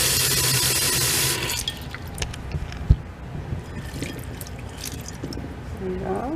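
Tap water runs loudly for about a second and a half to soak sotanghon noodles, then cuts off, leaving soft drips, handling clatter and a brief knock, with someone speaking under it.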